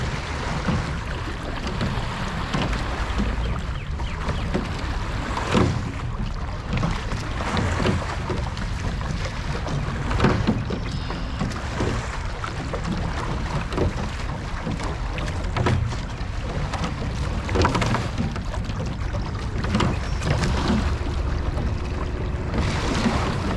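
A rowing boat moves on open water with only the starboard side pulling, giving repeated splashing oar strokes in a loose rhythm over a constant wash of water and wind.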